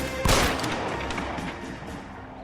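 A single loud gunshot rings out in L.A. Noire, followed by a fading echo and low background ambience.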